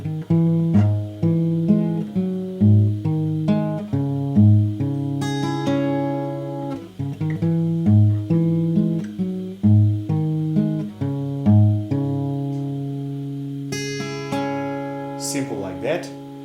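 An acoustic guitar with a capo plays the intro of a song, bright picked notes in a lilting repeating pattern with ringing bass, close and clear, with a brief scrape of fingers near the end.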